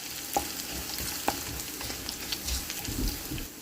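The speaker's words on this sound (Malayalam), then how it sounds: "കരിയാപ്പില ഇട്ട് ഉള്ളി ഇട്ടു. ഉള്ളി ചെറിയൊരു ബ്രൗൺ കളറാകുന്നത് വരെ ഇളക്കിക്കൊണ്ടേയിരിക്കുക." Onions and curry leaves frying in a pan, a continuous soft sizzle with a few sharp knocks and scrapes of a stirring spoon, close by and moderately quiet.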